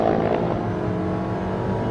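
A car pulls away under electric torque, accelerating with a steady, even drone and a faint tonal whine, continuous and close, with no talking.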